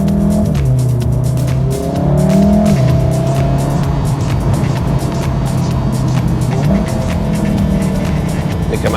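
A VW Mk7.5 Golf GTI or Golf R engine revs steadily while driving, a loud sustained drone climbing and dropping in pitch with gear changes, heard from inside the car with road noise.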